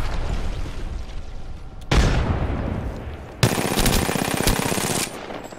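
Rapid automatic gunfire in the shooter game Apex Legends, loud and close, with bursts of dense firing broken by short pauses and a sharp onset, some explosive booms mixed in, no talk.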